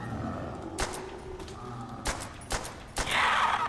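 Gunfire in Call of Duty: World at War Zombies, a few sharp single shots spaced irregularly and ending in a louder sustained burst, heard over steady game background noise.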